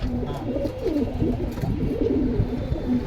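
Lal Patti military pigeons coo in a steady, close stream of low throaty calls that keep overlapping, with no talk, at a pigeon sale in Kalindi, Keraniganj, Dhaka.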